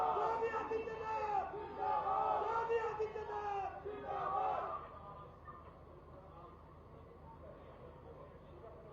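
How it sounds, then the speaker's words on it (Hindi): A crowd cheers and shouts together at a public ceremony unveiling a statue of farmer leader Chaudhary Ajit Singh in Baghpat. The loud, overlapping voices last about five seconds, then fade to a quieter murmur. "आप सभी जोरदार तालियों के साथ इनको बधाई दें"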